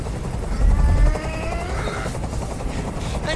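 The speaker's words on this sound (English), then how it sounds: "I can't stand that noise anymore! Tell that helicopter to get out of here!" A helicopter's continuous whirring rotor drone fills the scene in the video game Detroit: Become Human, steady and loud throughout, with a brief low thump near the start.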